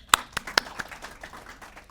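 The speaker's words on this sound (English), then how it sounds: "Let's welcome her with a big round of applause." Scattered hand claps from an audience welcoming a speaker at a speech competition, a few sharp separate claps fading out over under two seconds rather than a full round of applause.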